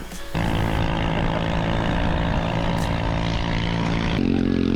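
A small drone lifts off and flies near larch trees in autumn, giving a loud, steady propeller whine with strong harmonic tones that holds throughout, shifting pitch near the end.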